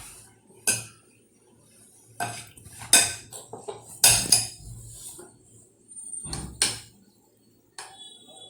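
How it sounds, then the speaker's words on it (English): A spoon clinks and scrapes against a cup of homemade cappuccino in a series of sharp, close metallic taps spread across several seconds, with quiet gaps between bursts and no talking. "Make the pattern with your spoon."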